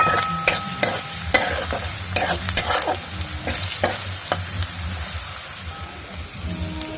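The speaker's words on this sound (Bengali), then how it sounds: "রসুনটা একটু ভাজা ভাজা হোক।" Garlic frying in mustard oil with chopped chilli and a little turmeric, a steady close sizzle with sharp clinks of a spoon stirring the pan, no talking.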